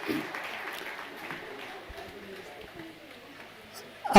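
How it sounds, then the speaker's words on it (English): An audience at a colloquium gives a round of applause for a deputy minister, a steady moderate clapping that fades slightly over a few seconds. "Another round of applause, ladies and gentlemen,"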